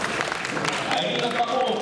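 Brief applause greets a judge being introduced at a speedcubing final, a short burst of crowd clapping with voices mixed in.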